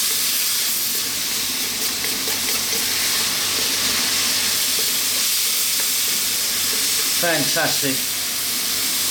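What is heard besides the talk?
chicken fried rice steaming and sizzling on high heat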